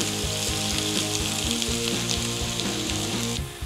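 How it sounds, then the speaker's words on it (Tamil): Finely chopped onion sizzles steadily in hot oil while frying for a mutton liver fry, a loud, close, continuous crackle with no voices over it. "வெங்காயம் நல்லா வதங்கணும்."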